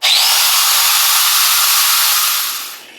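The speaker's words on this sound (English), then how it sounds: "I rough it in with the angle grinder and I cut on edge, just because the high-speed steel is so tough." An angle grinder roughs in a tough high-speed steel form cutter, cutting on edge, a loud harsh steady hiss of grinding close by for nearly three seconds before trailing off.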